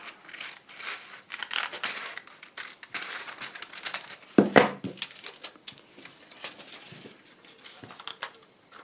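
Scissors trim the edge of a paper window envelope, producing soft crinkling and irregular snips with one louder cut midway, quiet and close.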